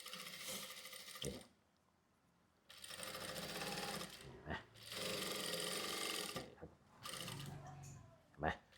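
Jack F6 sewing machine stitching thin fabric, running in several sustained bursts separated by brief pauses, close and steady with a mechanical whir and needle clatter.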